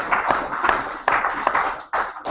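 Brief, light applause from a small audience at a British chess championship event in Aberystwyth, a scattered patter of handclaps lasting about two seconds before tapering off.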